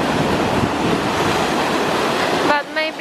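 Steady rushing surf at Nantasket Beach, a broad continuous wash of waves with some wind noise, dropping away abruptly near the end.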